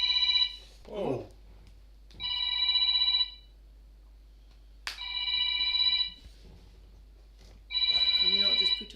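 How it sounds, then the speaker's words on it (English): A mobile phone rings during a kitchen quiz gathering, four bursts of a repeating electronic ring tone separated by short gaps, loud and close, with a person speaking briefly between rings. "My phone never rings."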